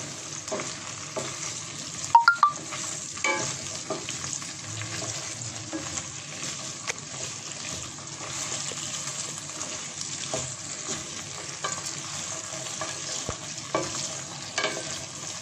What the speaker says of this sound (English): I fry them till that gummy water dried up.